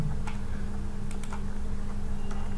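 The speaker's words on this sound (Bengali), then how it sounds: "তো আমি এখানে একজন স্টুডেন্টের নাম লিখলাম রায়হান" A computer keyboard tapped sparsely while a student name is entered into an Excel sheet, a few distinct light clicks spread over a steady background hum, no talking.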